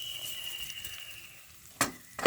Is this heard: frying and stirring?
yes